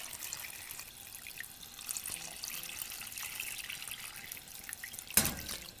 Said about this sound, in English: now I'm going to add just enough water to cover.